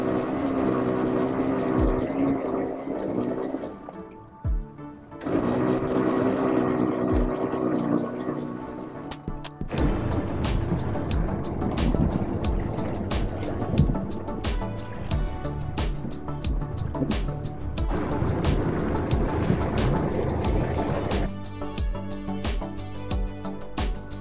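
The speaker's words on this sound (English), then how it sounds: "Still sailing with our jib out, motor sailing." A sailboat motor-sails with its jib out on open water, and the engine drone runs continuously with wind and water rushing over it. It briefly dips around the five-second mark, then carries on loud and unbroken.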